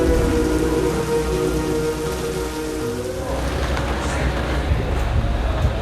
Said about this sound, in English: There's thunder and a little bit of rain